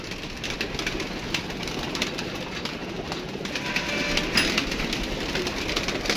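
Pigeons in a wire-mesh loft coo softly and rustle amid a steady low background hum, continuous and fairly close, with no voices.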